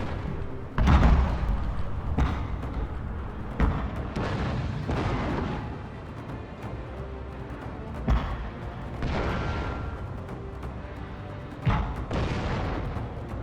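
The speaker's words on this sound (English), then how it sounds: "I think they're firing explosive shells" Explosive shells fire in a Total War Shogun 2: Fall of the Samurai naval battle, a string of heavy booms and thuds landing every couple of seconds over a constant rumbling battle bed, loud and close.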